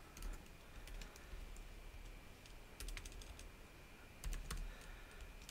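Fast keystrokes on a computer keyboard as code is typed, a steady quiet patter of clicks with a few sharper bursts, heard alone with no talking.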